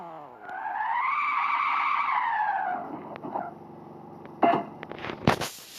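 A car skids in a car crash simulator game, its long tire screech rising and falling for a couple of seconds before fading into scattered crunches and bangs of a collision.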